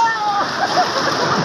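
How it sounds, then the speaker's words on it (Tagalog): Strong waves splash against a rocky shore in a loud, continuous wash close by, with voices calling over it. "Sobrang lala ng alon ngayon."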